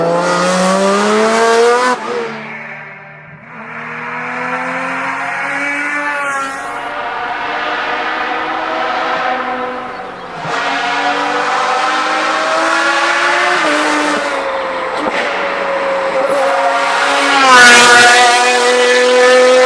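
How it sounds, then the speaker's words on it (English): Alpine A110-50 concept car engine revving loudly at speed on a race track, with rising and falling pitch as it shifts through gears, a brief lull near the middle and a strong close pass near the end. "let's hear the sound of the Alpine A110-50's engine as we speed down the track"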